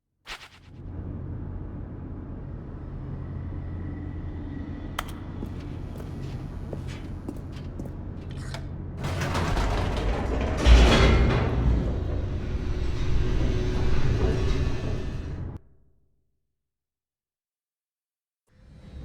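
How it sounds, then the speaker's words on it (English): An elevator in The Stanley Parable racing downward: a steady low mechanical rumble that swells louder midway with rattling, then cuts off abruptly into silence. "The elevator raced downward, plummeting towards an unknown fate."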